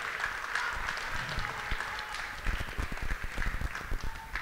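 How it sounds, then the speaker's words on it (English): Audience at an eighth-grade civics showcase gives the civics teachers a brief round of applause, a fairly faint wash of clapping in a room with a few sharper nearby claps toward the end. "can we give them a quick round of applause before we start?"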